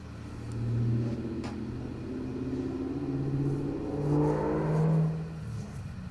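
A 5-litre V8 engine in a drag racing video game revs up and settles in a steady rumbling drone, with rising and falling pitch surges and no voices over it.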